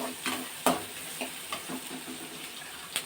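Onions sautéing in a pan for eggplant kuzhambu: a steady, soft sizzle hisses throughout, with a few sharp scrapes and taps from stirring, close by, with no one speaking.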